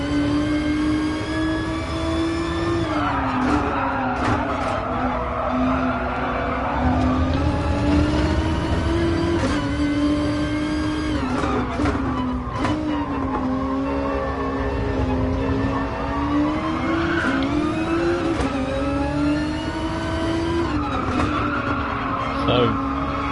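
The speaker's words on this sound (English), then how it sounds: "listen to that horsepower bagging up the rears" Race car engine in Gran Turismo Sport, an FIA GTC Manufacturers Series online race, holds a loud, steady high-revving drone with pitch rising and falling through shifts, tire squeal and skidding layered over it throughout.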